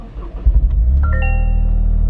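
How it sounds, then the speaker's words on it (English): A 2023 Toyota GR Corolla starting up: a brief cranking thump catches into a loud, steady engine rumble, with a few chime tones rising over it as the car comes to life. "I'll also give you a sound clip on when this car starts up."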